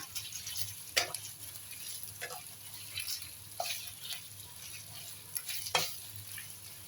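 Beef stir-fried with tomato in a hot pan, a constant soft sizzle broken by repeated scraping spatula strokes every second or so.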